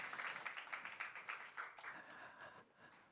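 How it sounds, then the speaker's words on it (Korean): Congregation applauding during a Christmas Day church service, a run of quick claps over about two seconds that thins and fades, moderately faint in a large room. "박수합니다."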